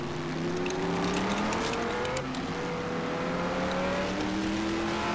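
Onboard with a Porsche Can-Am race car at Mid Ohio in 1971, the engine drones loud and steady, its pitch climbing smoothly through gears with a brief dip midway.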